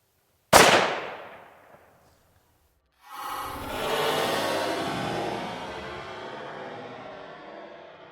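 A sharp rifle crack and its decaying echo outdoors, followed after a pause by a broad, sustained whooshing blast from a Firebird exploding target being hit, fading out slowly.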